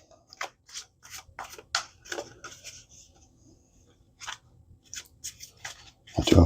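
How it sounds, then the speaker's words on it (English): Scissors snipping paper cards in quick irregular bursts of crisp close cuts, pausing midway before a final run of snips and a louder rustle at the end. "I'll do a final cut here."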